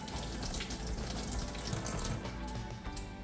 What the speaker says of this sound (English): Flushing the water.